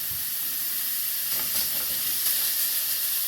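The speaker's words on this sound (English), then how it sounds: "Make sure the meat is getting browned." Steak seasoned with salt and oregano sears in a hot pan, giving a continuous bright sizzle and hiss that swells slightly midway, close and steady, with no talking.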